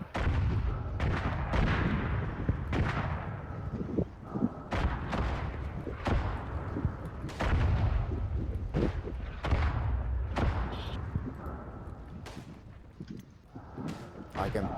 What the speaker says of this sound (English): I shall now toss more grenades.